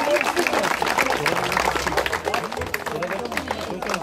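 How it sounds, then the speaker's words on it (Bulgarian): Audience applause for the first-place winner in a women's category at an awards ceremony: steady, dense clapping from a crowd, moderately loud and continuous throughout, with a low hum underneath. "Дай ти малко аплодисменти"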